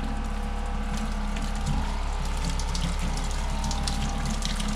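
Water runs from a shower in a villa in Kenya, a steady rushing gush with a low pump-like hum underneath, continuous and close, with a brief knock partway through.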